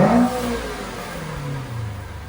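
Lamborghini Aventador, freshly fitted with a new O2 sensor, revving hard while driving, a loud close engine roar that peaks at the start and then settles into a steady falling drone.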